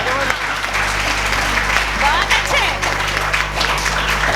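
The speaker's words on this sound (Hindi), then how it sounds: "एक बार ताली इस बात के लिए" An audience of women at a comic poetry show breaks into applause, a dense, loud, sustained clapping with crowd noise and some voices mixed in throughout.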